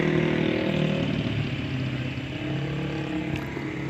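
A motorcycle exhaust puts out a continuous rough, throaty drone that stays close and fairly even, easing slightly partway through.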